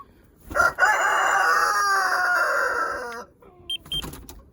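A rooster crows once in a long, loud, strained call, followed by a few short clucks.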